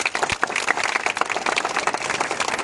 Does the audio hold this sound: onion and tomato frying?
no